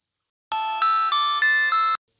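A phone ringing with a bright electronic ringtone, five quick melodic tones in a row, loud and close, surrounded by silence.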